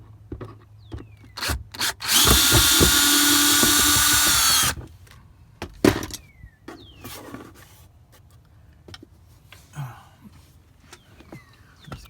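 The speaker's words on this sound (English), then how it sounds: "let's take the screw off" A power drill backs a screw out of a Honda Pilot door panel in one loud close burst of about three seconds, surrounded by scattered clicks, taps and handling knocks.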